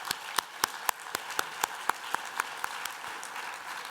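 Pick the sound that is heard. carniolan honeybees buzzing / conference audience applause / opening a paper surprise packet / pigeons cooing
conference audience applause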